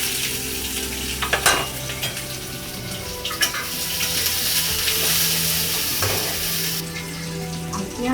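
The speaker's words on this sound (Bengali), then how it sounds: "এখন আমি পেঁয়াজ ছেড়ে পেঁয়াজগুলো আধা ভাজা করে নেব।" Onions fry in hot oil in a wok with a bay leaf already in the pan, giving a continuous loud sizzle with bursts of stirring and scraping, close and steady throughout, with no voices.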